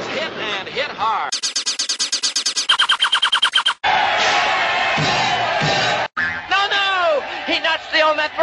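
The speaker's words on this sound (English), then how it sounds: "listen to that crowd" Stadium crowd cheering at a sporting event, a broad roaring swell in the middle that breaks off abruptly and is cut between choppy, remixed stretches of announcer-style talk.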